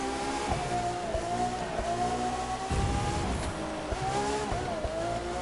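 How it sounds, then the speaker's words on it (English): Racing cars in The Crew 2, a McLaren F1 and a Lamborghini Aventador passing during late braking into turns: a loud, continuous engine whine that rises and dips with gear changes and revs, with no talk over it. "the McLaren F1 is now passing me along with the Lamborghini Aventador"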